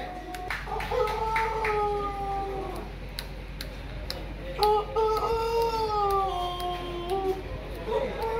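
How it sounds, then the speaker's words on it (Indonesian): Pelung roosters crow at a chicken contest in Madura, with long drawn-out wavering calls, one after another, over a noisy outdoor crowd background. Other birds call faintly. "Ini kontes ayam pelung"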